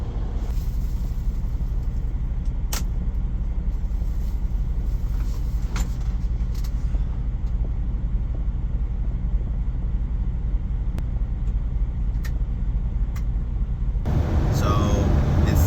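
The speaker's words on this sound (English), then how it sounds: "First 5 minutes of driving and my truck hasn't cut out the way it's been cutting out." A truck drives along a road with a steady, loud engine rumble and road noise, a few faint clicks and bumps, and a louder burst of noise at the very end.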